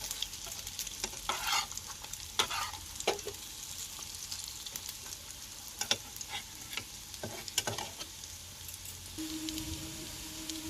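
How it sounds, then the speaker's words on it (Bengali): Potato and egg fritters sizzle steadily in hot oil in a pan, with scattered close scrapes and taps as they are turned. No voices. "আর একটু উল্টে পাল্টে নেবো, যাতে দুই পাশটা ভালোভাবেই ভাজাটা হয়ে যায়"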